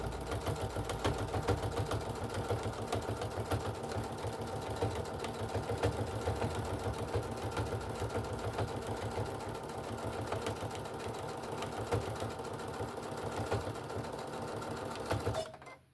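A sewing machine runs in a steady continuous whir of rapid stitching, close and fairly loud throughout, back stitching to lock the seam on a walker caddy, stopping abruptly at the end.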